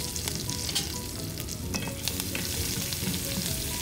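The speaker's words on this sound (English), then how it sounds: "fry for a minute" Turmeric, shredded ginger, green chilies and curry leaves fry in hot oil with a dense, continuous sizzle and crackle, close up, with faint stirring scrapes and no talk.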